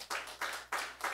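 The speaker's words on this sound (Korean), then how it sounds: "우리 박수 한번 치겠습니다." A church congregation in Korea claps together in four evenly spaced bursts, fairly faint and a little reverberant, like a short round of rhythmic unison clapping.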